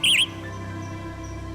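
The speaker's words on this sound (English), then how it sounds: "Western tanager." Western tanager song played from a tape in a Nancy Drew game, a short bright burst of whistled, warbling phrases at the start, then fading into a low steady background hum.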